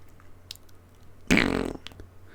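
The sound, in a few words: voice imitating a fart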